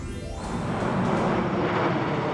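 A low-flying airplane roars over a residential neighborhood beside an airport in Yangcheon-gu, Seoul, a loud, steady broadband engine rumble that builds quickly and holds close overhead without any voices.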